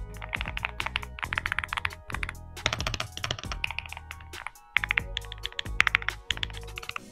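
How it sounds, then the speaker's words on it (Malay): Rapid clacky keystrokes from a custom mechanical gaming keyboard, typed in quick bursts with short pauses, close and crisp, no voices. "Jadi itu ialah dia punya sound keyboard"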